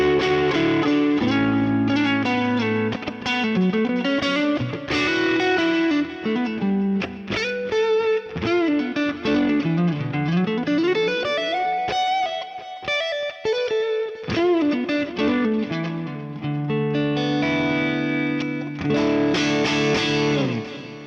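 Electric guitar through a ToneX Electric Gypsy Rhythm preset, with digital delay and plate reverb, playing rhythmic chords and melodic runs with bends for about twenty seconds, loud and continuous with no voices.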